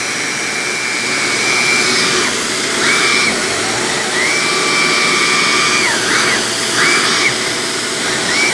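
A Shark Apex vacuum with TruPet motorised attachment runs on maximum suction, a loud steady roar with a whistling tone that repeatedly rises and drops as the tool bogs down and recovers, close by, with no speech.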